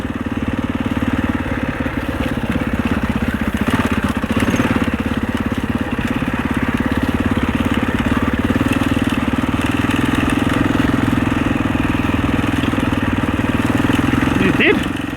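A 650 four-stroke dirt bike on an enduro trail, its engine chugging loud and close in a steady low throb, holding at a constant pace throughout.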